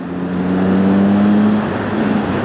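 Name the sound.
Triumph Speed Triple motorcycle engine revving in third gear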